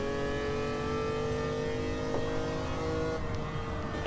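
A car engine revving hard on the Eiger Nordwand track in a racing game, a sustained whining tone that climbs steadily with a brief shift partway through, loud and continuous.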